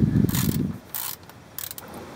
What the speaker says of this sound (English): So you can see the 4 bolts you're going to need to undo.